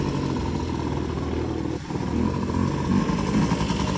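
Two-stroke scooter engine idling, a steady close buzzing rattle held at constant loudness for several seconds, with no talk over it.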